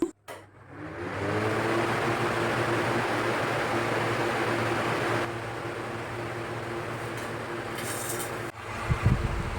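A Hindware Vectra 85-litre air cooler switches on with a click, then runs with a steady, loud fan whoosh and low motor hum that continues evenly, easing slightly partway through, with a few faint knocks near the end.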